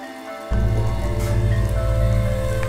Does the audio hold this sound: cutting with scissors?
no